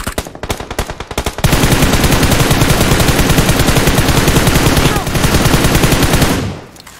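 Rapid automatic gunfire in the battle royale game PUBG, loud and close, starting with a few quick bursts and then a sustained unbroken stream of shots for several seconds before it stops.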